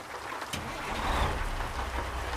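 Steady rain in American Truck Simulator falls around a Peterbilt 567 truck, a continuous close hiss with a low rumble underneath and no talking.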